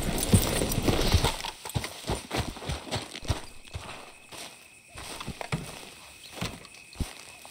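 Steady rhythmic clip-clop of horse hooves walking in Red Dead Redemption 2, close and clear over a faint background ambience.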